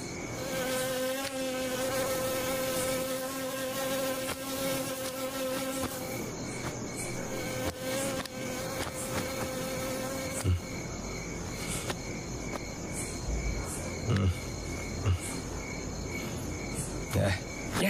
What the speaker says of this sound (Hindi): यहाँ की ठंड और मच्छर तो मुझे सोने ही नहीं दे रहे हैं।